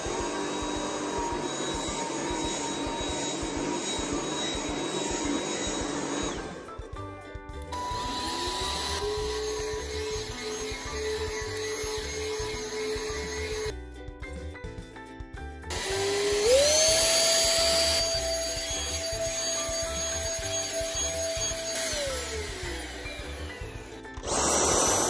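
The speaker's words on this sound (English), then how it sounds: "let's go vacuum the carpet" An Aldi dupe vacuum cleaner runs loudly on carpet with a steady motor drone that cuts out briefly twice, then returns and rises in pitch as the motor revs up, with no talking.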